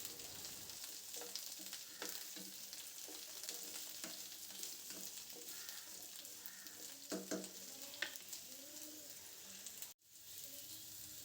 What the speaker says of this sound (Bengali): আর কুমড়োটা অনেকটাই ভাজা হয়ে এসছে। এখন আমি এর মধ্যে বেগুনটা দিয়ে দেব।